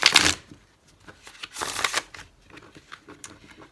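A deck of tarot cards is shuffled by hand, with a loud riffling burst at the start, another around the middle, and softer scattered card flicks and taps between them, close up with no voices.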